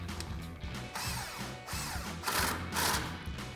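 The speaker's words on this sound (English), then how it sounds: "We're going to be using an 18mm socket to tighten this one down" Ratcheting and tool clatter from an 18mm socket tightening the top shock bolt on a Jeep Gladiator JT during a ReadyLIFT 2.5-inch suspension lift install, with repeated mechanical clicks and strokes close by, steady and fairly loud throughout.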